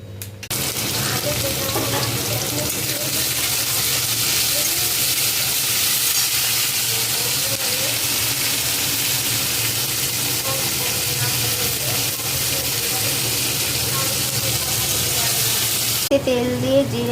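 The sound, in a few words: potatoes frying in oil with cumin tempering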